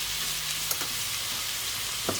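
Coarsely chopped mushrooms sautéing in a nearly dry pan, a quiet even sizzle with two brief stirring scrapes, no voices.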